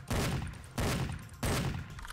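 Three loud, booming shotgun blasts from the video game Cortex Command, evenly spaced, each a sharp broadband crack with a long rumbling tail and no talk over them.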